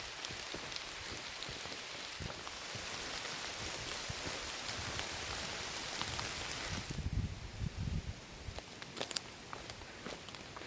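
Steady rain patters across a forest trail in wet weather during a backpacking hike in the Porcupine Mountains, a continuous close hiss with occasional footsteps and rustling.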